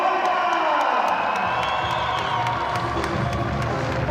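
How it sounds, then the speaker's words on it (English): Stadium crowd at a Premiership Women's Rugby match between Saracens Women and Leicester Tigers Women gives a standing ovation to a departing player, sustained loud cheering, whooping and clapping from many spectators, heard from the commentary position. "you can hear the ovation there from the crowd"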